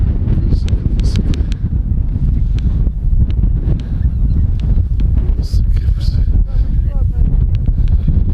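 A flock of geese honks overhead during a goose hunt on open ground in Kazakhstan: scattered, fairly distant honking calls under heavy wind buffeting, with people talking nearby.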